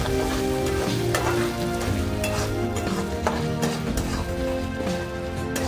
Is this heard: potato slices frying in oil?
yes